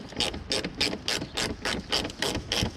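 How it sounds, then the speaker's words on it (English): A ratchet on a 10 mm socket backs out bolts under the front of a Lexus RC F, giving nine or ten evenly spaced, bright clicking bursts in quick rhythm, close and clear with no talking. "I'm gonna use the Lexus screwdriver and a 10 millimeter to get these 10 millimeter bolts out"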